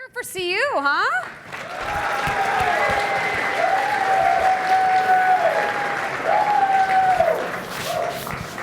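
Loud, sustained applause from an audience at a real estate challenge event, with a voice speaking briefly at the start and over the clapping.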